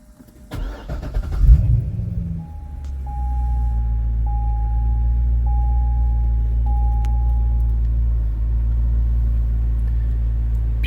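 A 2008 Chevrolet Corvette cranks over, its V8 catches with a loud revving burst, then settles into a steady deep rumbling idle while an interior chime beeps repeatedly.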